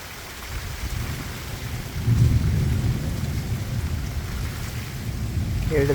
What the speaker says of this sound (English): Hear the thunder roar.